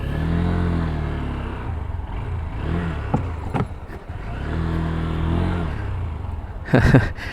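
A Honda NX 200 motorcycle being ridden over bumpy speed breakers, its engine rising and falling in two long revving swells with clatter between them, loud and close, ending in a brief sharp burst.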